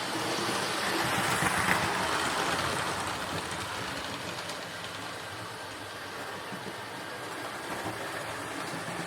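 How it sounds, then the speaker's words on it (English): A Dapol Hinton Manor model locomotive runs steadily along its track, a continuous close, even rolling rumble and hiss with faint rail clatter and no pauses. "this is the view of the locomotive just speeding through the"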